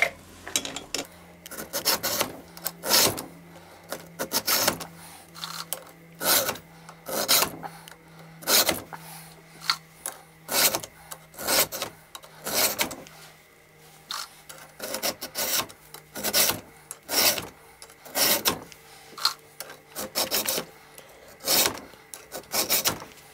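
A hand file rasps across chainsaw teeth held in a vise, making steady, regular strokes about once per second that repeat close and clear with no talking.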